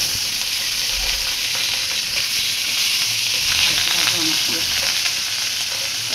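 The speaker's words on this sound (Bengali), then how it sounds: "মাছগুলো এখন ভাজা হবে।" Small chamila fish fry in hot oil, giving a steady, dense sizzle and crackle. The hiss stays even and continuous with occasional faint stirring noises, and no one speaks.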